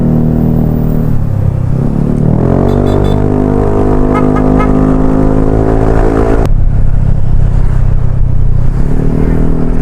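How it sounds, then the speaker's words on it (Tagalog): Yamaha NMAX motor scooter engine heard while riding on the way to school, a loud close drone whose pitch rises with acceleration and then drops, steady rumble throughout with no talk. "Yung gamit nating motor na siyempre yung ating Yamaha NMAX."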